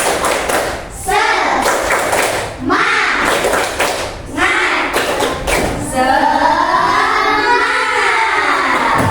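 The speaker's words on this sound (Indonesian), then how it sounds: "Oke, tepuk semangat." Primary school children doing a rhythmic clapping chant in a classroom, with loud patterned claps and thumps mixed with their chanting voices, close and energetic throughout.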